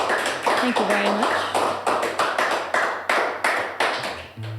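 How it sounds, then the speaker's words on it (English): Live audience applauding after a song at a small concert, steady rippling handclaps that swell and fade in repeated waves over several seconds, with a brief murmur of voices near the end. "It's nice to actually hear claps for a change."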